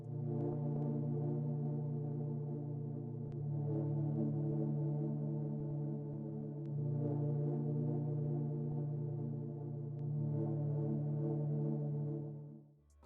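A sustained dark synth pad for a moody UK drill beat, shaped with EQ, panning and glue compression, holds a steady low droning chord at a quiet level for about twelve seconds before cutting off.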